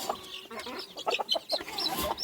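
Young chickens on a poultry farm cluck and cheep busily at close range, a dense flurry of short overlapping calls with no talk over them.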